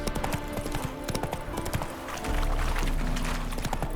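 Horse hooves clip-clop in quick, uneven steps in The Witcher 3 video game, loud and close, with a low thud of movement and a brief snort near the end.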